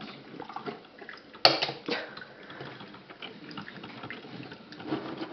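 Light cream poured while making coffee trickles and splashes faintly, with a sharp clink at the start and irregular liquid sounds continuing under quiet room noise.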